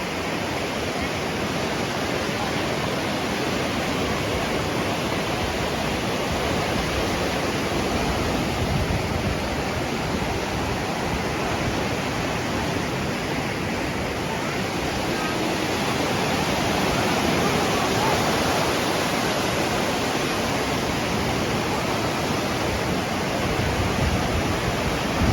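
Ocean surf on the beach at Hua Hin, Thailand, a steady broad wash of waves rolling in, continuous and moderately loud, with no clear breaks between sets.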